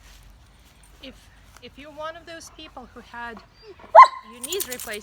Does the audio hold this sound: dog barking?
yes